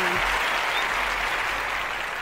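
Applause sound effect played during a podcast: a continuous, even roar of crowd clapping that stays loud from start to finish, with a faint tone briefly at the very start.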